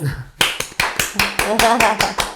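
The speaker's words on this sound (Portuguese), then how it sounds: "ele merece palmas" A small group claps for a guest, sharp separate hand claps in a quick uneven rhythm close by, with a voice speaking underneath.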